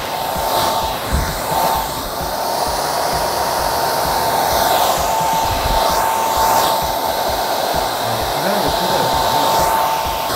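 A hair dryer blasts steadily while side bangs are blow-dried around a round roll brush into a large C-curl, a loud continuous whoosh with a thin whine and slight shifts as the airflow moves across the hair.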